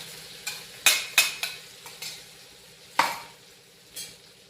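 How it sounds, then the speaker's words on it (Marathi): A paste of green chili, garlic and cumin being sautéed in a pan, with a low hiss under a handful of sharp spatula scrapes and taps at irregular intervals, close and fairly quiet. "आता हे छान थोड्या वेळ परतून घ्यायचं."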